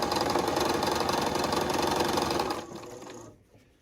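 A sewing machine runs fast and steady, stitching straight through chained quilt pieces for about two and a half seconds, then slows and stops, leaving a faint mechanical hum.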